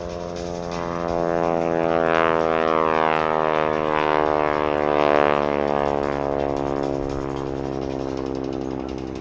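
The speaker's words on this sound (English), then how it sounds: "hear that engine, hear those propellers, the tips of those propellers, making that magic sound" A 600-horsepower SNJ Texan propeller airplane roars past at an air show, its engine drone swelling to a loud buzzing peak then fading slightly, with a steady harmonic hum throughout.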